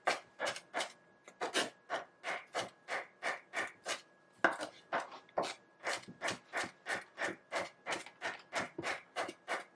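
Herbs for tabbouleh are finely chopped crosswise with a knife, a fast, even run of crisp board taps about twice per second, close and clear, with no voices.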